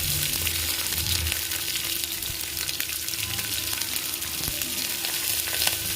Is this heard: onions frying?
yes